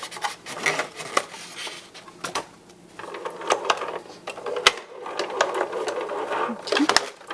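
A hand-cranked embossing machine rolls a card through in a clattering, ratcheting run of mechanical clicks, close by, with a person talking alongside it.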